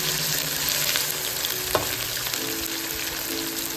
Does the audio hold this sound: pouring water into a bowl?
no